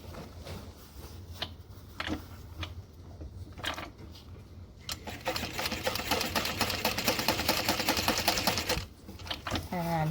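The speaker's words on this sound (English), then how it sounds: "we're going to top stitch along both sides" A sewing machine top stitches along both sides of a fabric seam on a Hullabaloo Hobo bag, its rapid, even mechanical chatter running for several seconds after a few clicks, pausing briefly, then resuming.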